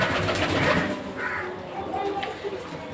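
Soft pigeon cooing inside a pigeon farm loft blends into a busy, murmuring background with indistinct voices, the low coos rising and falling at close range.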